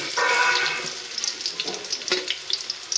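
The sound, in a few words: lentil fritters (bora) frying in oil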